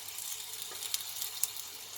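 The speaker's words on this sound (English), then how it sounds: "we're just going to fry the little parcels in a hot pan. I'm using a cast iron fry pan." Apple pie parcels shallow fry in olive oil in a hot cast iron pan, giving a soft, steady hiss and sizzle with a couple of faint pops, quiet and without voices.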